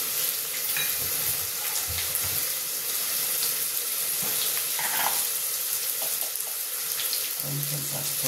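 Onion frying for mirchi masala curry: a continuous bright sizzle of oil in the pan with a few scraping stirs and brief clatter, steady and close throughout, no speech.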